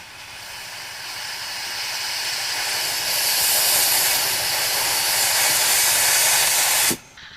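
A Maxim's La Seine X espresso machine steam wand froths milk with a loud, close, continuous hiss that slowly swells in intensity, then abruptly cuts off near the end.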